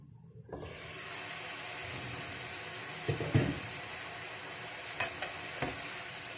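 Marinated chicken pieces hit a hot oiled pan and break into a loud steady sizzle, with a few clunks of a utensil partway through and no talking.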